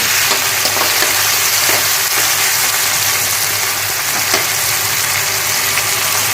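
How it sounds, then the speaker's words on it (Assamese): Tomatoes frying in oil and a little butter in a pan for butter chicken, a loud, close, continuous sizzle with crackling and occasional stirring scrapes throughout. "এই বিলাহীখিনিও মই দি দিছো অকণমান এনেকৈ ভাজিম বেছি নাভাজিম"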